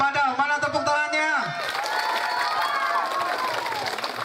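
At an elementary-school storytelling competition, a voice over the speakers gives way to a burst of audience applause, cheering and children's shouts, which continues steadily.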